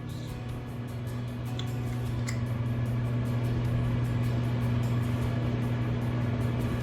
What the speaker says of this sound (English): So now we're gonna put our cinnamon buns in the microwave for